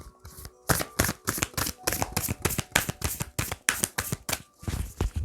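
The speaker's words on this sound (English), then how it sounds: "I'm going to shuffle this deck." A deck of cards is shuffled on a bed, a quick series of crisp riffling bursts repeating in a steady rhythm, close and clear with no talking.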